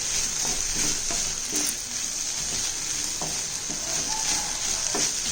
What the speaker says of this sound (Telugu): కూరని మళ్ళీ అటు ఇటు తిప్పుకోవాలండి